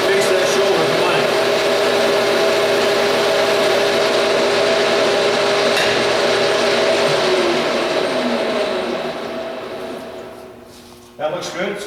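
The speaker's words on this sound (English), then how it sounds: "engage your cross feed and face that shoulder to length" A metal lathe facing a shoulder under cross feed makes a steady whirring cutting tone with a few sustained hums, and the noise fades out near the end before a short clatter.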